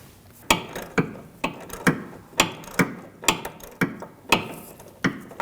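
A ratchet wrench tightening a bolt on the rear sway bar link of a 2006-2009 Audi S4, about ten evenly spaced sharp clicks at roughly one per half second, close and clear.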